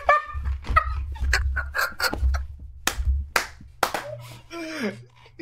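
Sharp scattered claps ring out amid excited voices, with a low engine-like rumble underneath for much of the time.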